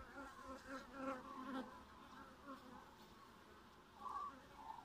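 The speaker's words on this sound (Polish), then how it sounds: "Tutaj trutnie wszędzie." A swarm of honeybees, many of them drones, buzzes continuously at close range around an open hive, the hum rising and falling as insects move about.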